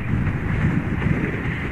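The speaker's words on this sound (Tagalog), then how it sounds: "Grabe kusog kayo og hangin." Strong wind roars in a steady, rumbling rush across the microphone on a high mountain highway at Tinoc, Ifugao, in the Philippines, with no other sounds above it.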